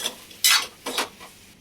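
A spoon mixes tomato chutney in a pan after salt is added. Two loud, bright scraping strokes and a few lighter clinks sound up close, with no talking.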